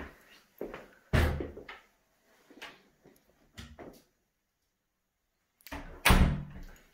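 Double doors into a flat in a residential court open and close, giving several separate thuds and clunks spread over a few seconds, close and fairly loud, with quiet gaps between them.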